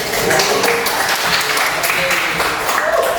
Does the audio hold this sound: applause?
yes